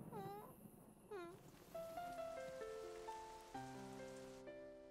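Cartoon rain falls in the Caillou cartoon as a soft, steady patter under gentle musical notes, with a couple of short animal-like calls near the start.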